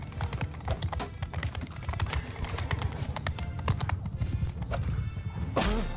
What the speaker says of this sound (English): Horse archers.